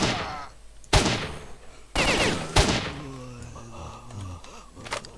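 Gunfire from a gun in S.T.A.L.K.E.R. – Shadow of Chernobyl: four sharp, loud shots at irregular intervals, each with a short echoing tail, followed by quieter rustling and a faint later pop.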